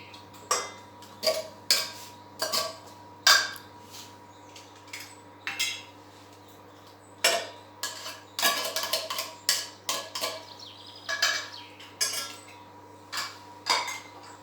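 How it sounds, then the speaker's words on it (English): Repeated metallic clinks and clatters of tins set down in a metal pan with boiling water, irregular knocks spread across the clip with a low steady hum beneath. "all I'm going to do is just put these 2 tins in the pan."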